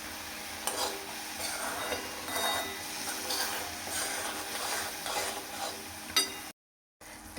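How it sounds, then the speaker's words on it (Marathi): Masala curry simmers and bubbles in oil in a pan, a soft continuous sizzle with faint crackles and occasional stirring scrapes, quiet and close, briefly cutting out near the end. "आता ह्याला एक छान उकळी येऊ द्यायची आणि थोडंसं चटचटीत तेल सुटू द्यायचं"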